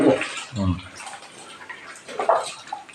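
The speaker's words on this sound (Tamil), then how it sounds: "தண்ணி ஊற வைக்கலாம், கழுவணும். கழுவிட்டு போடணும்." Potatoes are rinsed in water in a home kitchen, with soft splashing and sloshing bursts while people talk nearby.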